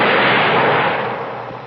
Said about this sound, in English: Shoot, Johnny.